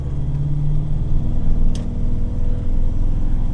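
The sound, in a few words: Land Rover 110 engine accelerating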